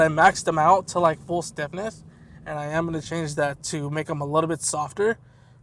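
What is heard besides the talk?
No everyday noise stands out behind the speech.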